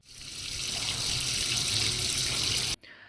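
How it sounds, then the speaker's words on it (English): Water rushes steadily from a just-opened valve in a bucket-built dam model, a continuous broadband flow that swells in over the first half second, holds strong and close, then cuts off abruptly near the end. "Open the valve. Water starts moving."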